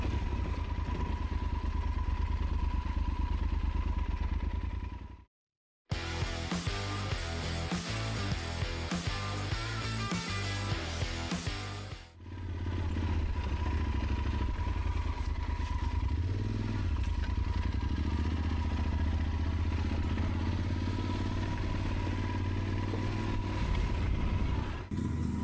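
A Yamaha Super Tenere 1200 motorcycle ridden off-road through a forest, its engine droning steadily and loudly with a rough, clattering texture and a brief cutout partway through.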